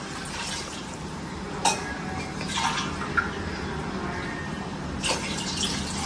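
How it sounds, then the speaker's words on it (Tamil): Water pours steadily into a pot of rice for biryani, a continuous splashing rush with a few light metallic clinks scattered through it. "நீ அரிசிக்கு மட்டும் இப்போ தண்ணி ஊத்து"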